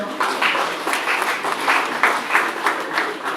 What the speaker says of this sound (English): Please, I want an applause for the governor.